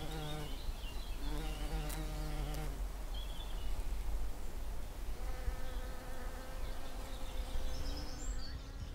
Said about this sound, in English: Here it is being visited by the garden bumblebee.